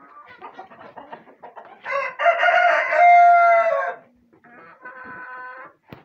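Backyard laying hens cluck close by, with a short run of scattered clucks followed by a loud drawn-out call and further clucking bursts.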